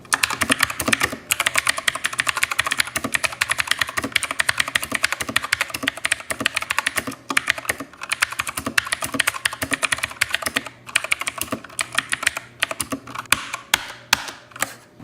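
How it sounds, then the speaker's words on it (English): Fast, continuous clicky typing on a 1stPlayer Bullet Hunter RGB mechanical keyboard with blue switches, crisp, loud keystrokes, steady throughout and close to the listener. "with what blue switches sound like, they all typically sort of sound the same on the spectrum"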